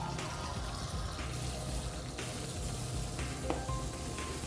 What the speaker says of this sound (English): First, we'll take a sample of normal tap water.